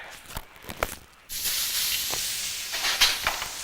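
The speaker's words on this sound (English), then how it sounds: "This is stir frying, and stir frying is fast and hot." Lobster pieces stir-frying in a smoking hot wok over high heat, a loud steady hiss and sizzle that bursts on suddenly and holds, with a few scraping clatters before it.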